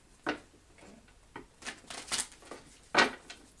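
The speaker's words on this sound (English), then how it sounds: "Let's do a couple more shuffles here" Tarot cards are shuffled in a few short, soft riffling bursts separated by quiet gaps, close and faint, with no talking.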